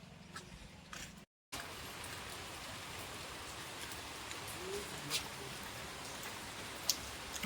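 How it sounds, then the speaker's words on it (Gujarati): Steady rain falls continuously as a dense, even hiss, with a brief gap near the start and a few faint distant sounds. "હજુ વરસાદ ચાલુ જ છે, કાલ રાતનો ચાલુ છે એક ધારે।"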